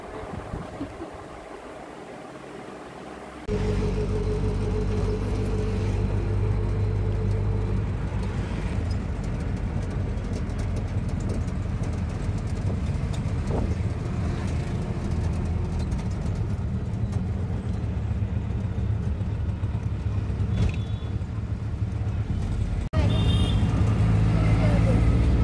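An auto rickshaw rides through city traffic on the way to Goregaon station in Mumbai, a constant engine drone and road rumble with passing vehicles and occasional horns, with a voice talking briefly near the start.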